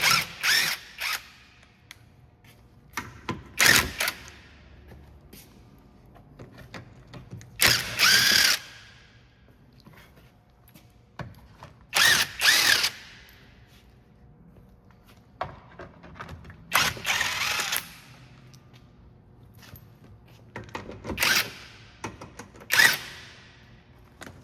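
Bursts of a power drill spinning out 10 mm bolts and Phillips screws from the front panel of a 2014 Lexus RX350 with a 2GR-FE V6, several loud whirring runs separated by pauses and faint ratcheting clicks.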